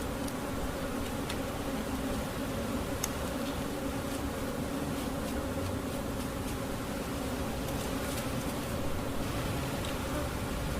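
Honey bees buzzing in a dense steady drone while being brushed off drone-trapping frames at a hive, continuous and close with faint scattered ticks and knocks.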